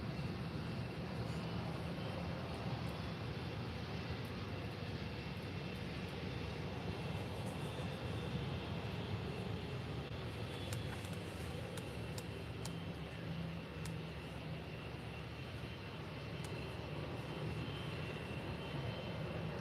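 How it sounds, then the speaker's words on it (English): An Aer Lingus Airbus A330-200 from Dublin moves at Faro Airport, a faint, steady distant jet roar lasting the whole stretch, with a low rumbling hum and no speech. "the Aer Lingus A330 from Dublin"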